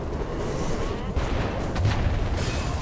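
Gunfire in the video game Alice Madness Returns sounds as a dense, rumbling run of booming shots under heavy game noise, continuous through the short stretch without a break.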